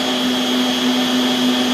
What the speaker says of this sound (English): now we're just gonna leave our eggs to whisk